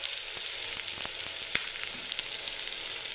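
Onion and beans frying in a pan for a breakfast semei dish, a steady close sizzle with scattered pops and crackles running evenly throughout.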